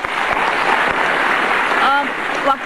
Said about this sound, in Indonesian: Kita kasih tepuk tangan Pak Toto.